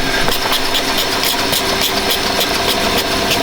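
A mini lathe runs at slow speed, its steady motor hum and rhythmic vibration close and continuous as the tool cuts the top face of a workpiece held tight in a collet.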